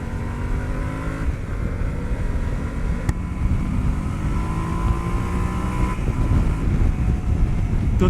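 Yamaha Tenere 700 crossplane twin engine drones steadily beneath the rider as the bike runs on aggressive knobby tyres, with a continuous throaty rumble that rises and falls gently through gear changes, mixed with loud wind rush.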